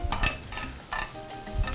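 Food sizzles and fries on an indoor stovetop grill pan in a home kitchen, a steady close crackle with brief bursts of stirring or scraping.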